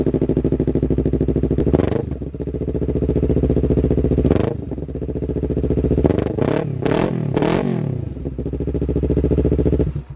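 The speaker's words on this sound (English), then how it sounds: "Let me turn on the bike so you guys could hear on the more grunty sound that it gives the exhaust" A five-year-old motorcycle fitted with an aftermarket exhaust idles with a deep, grunty, throbbing tone close by, broken by several short blips of the throttle that rise and fall.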